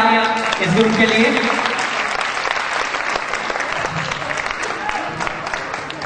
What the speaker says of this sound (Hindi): जोरदार तालियां इस ग्रुप के लिए।